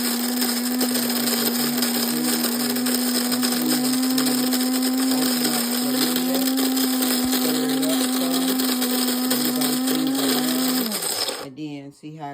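A Cuisinart coffee grinder set to 4 grinds coffee beans with a loud, steady high-pitched motor whine and rattling beans, running continuously close up before winding down and stopping near the end.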